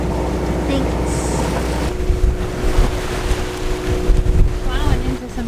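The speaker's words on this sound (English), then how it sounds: "Plowing into some big waves." A sailboat, the Meraki, crossing the Georgia Strait and plowing into big waves in strong wind, with steady wind buffeting over rushing water and low engine-like rumble, surges and splashes building toward the end.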